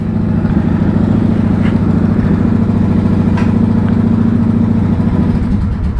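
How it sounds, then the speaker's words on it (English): A motorcycle engine holds a fast idle close by, a loud, steady, rapid low thrum that does not rise or fall. "Alright, we got the fast idle going."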